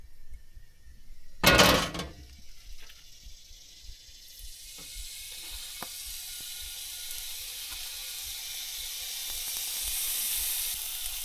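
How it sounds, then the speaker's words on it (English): Perch and croaker fillets frying in hot oil on a camp stove, opening with a sharp loud splash and crackle, then settling into a steady hiss that slowly builds and grows brighter. "So let's get this stove lit and we'll get some oil hot."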